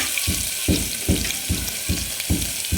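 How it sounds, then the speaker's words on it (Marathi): Crushed garlic hits hot oil already crackling with mustard seeds and cumin while Kolhapuri-style misal masala is prepared; a steady close sizzle swells in regular pulses about every half second. "आपण भरपूर असा लसूण घेतलेला आहे ठेचून तो टाकून घेतो"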